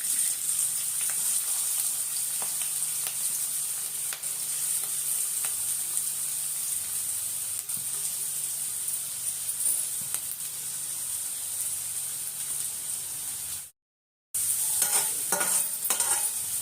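Onions and green chillies fry in a pan with a steady, continuous sizzle, broken by occasional stirring scrapes and a brief drop to silence near the end.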